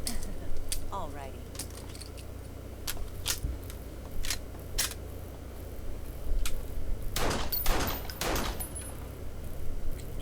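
Gunfire from 9mm pistols in an action anime scene: a scatter of sharp single shots through the first half, then a tight cluster of louder rapid reports near the end, all over a low background bed.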